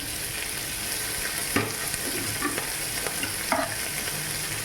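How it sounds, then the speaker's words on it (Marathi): Finely chopped green chillies and capsicum fry in a pan for restaurant-style paneer chilli, with a low steady sizzle and a few soft stirring scrapes, no voices. "ही बारीक फाईन चॉप जी हिरवी मिरची आहे ती अगोदर ॲड करत आहे, म्हणजे छान फ्राय होईल"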